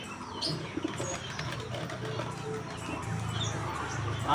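Pigeons coo softly in a rooftop loft, a few low, gentle coos nearby amid faint chirps and background noise, with quiet speech at times.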